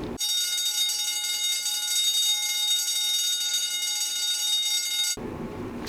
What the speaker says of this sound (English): Fire bells are common near sprinkler risers. They're going to ring when the water flows,